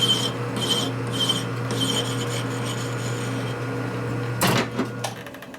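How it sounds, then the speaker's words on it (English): A metal part being deburred by hand during a 1972 Harley-Davidson 1000cc Ironhead Sportster street tracker rebuild, with steady, close rasping strokes that repeat in a rhythm and then give way to a louder scrape near the end, no talk. "Deburr it now."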